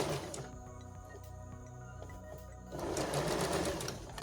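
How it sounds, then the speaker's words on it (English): A sewing machine stitches straight across a single-layer fabric food bowl cover, a steady mechanical whir that grows louder and busier toward the end, with no talking. "you want to just pop it on top and sew straight over it"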